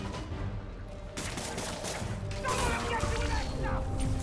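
Rapid gunfire from armed enemies in the video game Marvel's Spider-Man Miles Morales comes as bursts of shots and crashes that grow louder midway, mixed with game noise and a voice.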